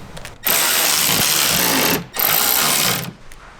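A power tool tightens bolts on a DECKED drawer system in a Jeep Gladiator truck bed, with two close, loud whirring bursts of about one and a half and one second separated by a short pause.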